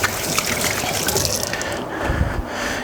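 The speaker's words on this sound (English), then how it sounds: "So I just wash my hands off quickly." Hands being rinsed under a running tap in a kitchen, a loud steady splash and trickle of water that eases off toward the end.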